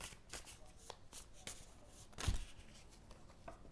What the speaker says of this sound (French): j'aime bien, vous savez, quand il y a une carte qui tombe